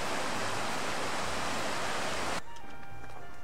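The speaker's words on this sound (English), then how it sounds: "Bubbling brook." A bubbling mountain brook near Zermatt rushes as loud, dense broadband water noise close by, then cuts off abruptly to a much quieter background.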